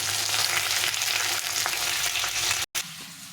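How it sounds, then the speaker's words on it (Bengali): Pointed gourd pieces frying in a pan with salt and turmeric, a dense, steady sizzle with occasional stirring scrapes, close up, cutting off briefly near the end. "সামান্য একটু লবণ, একটু হলুদ দিয়ে ভালো করে ভেজে নেব।"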